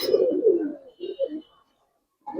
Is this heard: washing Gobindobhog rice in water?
no